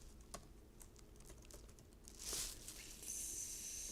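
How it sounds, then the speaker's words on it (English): Quick bursts of keystrokes on a computer keyboard while HTML code is typed, faint and close, with a brief crinkle near the end. "we are going to type in"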